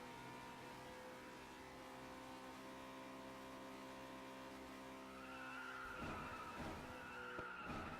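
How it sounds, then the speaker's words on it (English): Race car in the FlatOut Ultimate Carnage video game, a steady loud engine drone that shifts pitch partway through, joined by tire skidding near the end, with no talking. "the noise of this car is fucking loud"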